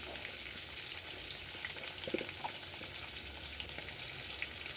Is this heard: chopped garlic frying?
yes